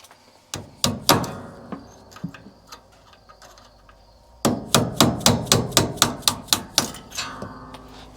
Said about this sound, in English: And take the punch and the hammer.